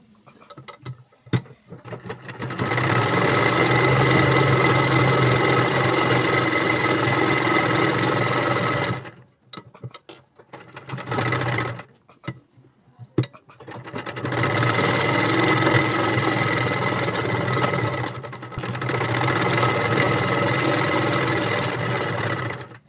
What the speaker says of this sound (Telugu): ఇప్పుడు లైనింగ్ పీస్ని దీనికి పై వైపున వేసి కుట్టుకోవాలి.